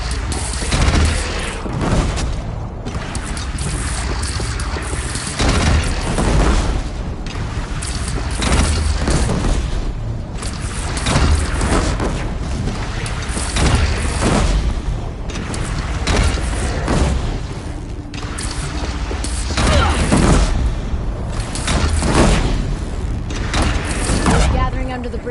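Booming cannon and gunfire from a Horizon game featuring Aloy roll through a long battle scene, heavy thuds and bursts repeating under frequent shouted dialogue and clashing effects.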